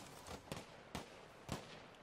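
Distant gunfire in Battlefield V Firestorm, four faint, sharp cracks spaced roughly half a second apart over a low ambient background.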